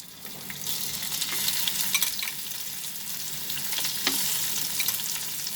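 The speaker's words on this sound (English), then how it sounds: "Now in that same oil, I'm going to fry these prawns also." Prawns frying in hot oil left over from frying potatoes, a bright, close crackling sizzle that swells as they drop in and keeps popping steadily with a few stir clicks, no talking.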